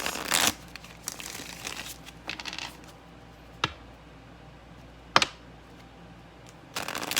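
Tarot cards are handled and laid out on a surface, with short riffling bursts at the start and end and a few sharp slaps of single cards in between, heard close up over a quiet background with no talk.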